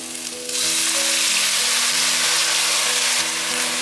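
A chickpea and tofu-skin filling with mushrooms is stir-fried over high heat in a pan, giving a loud, steady sizzle that jumps up sharply after a brief quieter moment and holds throughout.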